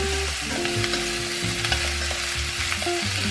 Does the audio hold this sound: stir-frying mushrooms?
yes